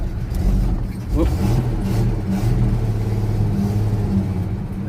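A 1964 EH Holden ute, started after sitting unused for an unknown time, is driven with its engine running smoothly: a close, low, steady rumble that rises briefly as it revs, with a voice heard over it.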